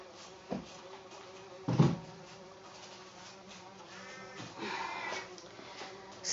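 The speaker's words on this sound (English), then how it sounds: "Listen to that bee." A bee hums around a soap-making bench, a faint, steady buzz that swells briefly as it passes closer, with a couple of soft knocks from handling in the background.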